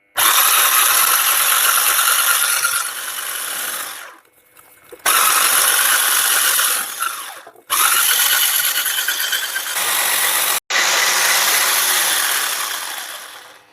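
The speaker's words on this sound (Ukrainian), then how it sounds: "Жовтки збиваємо до світлої пухкої маси." An electric hand mixer whisks egg yolks with sugar for a banana-strawberry cheesecake, a loud high whirring drone that runs in long stretches, cutting out briefly between them.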